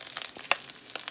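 Garlic burning in hot oil crackles and sizzles in short bright bursts, with a couple of sharp pops standing out, close and moderately loud over a brief stretch.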